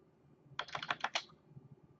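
A burst of about six quick keystrokes clatters on a computer keyboard, close and crisp against a quiet room, with no talking.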